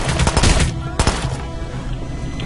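Several sharp shots from the stealth video game Hitman Absolution crack in quick succession, then one more loud report follows after a short gap, each ringing out over a busy game backdrop.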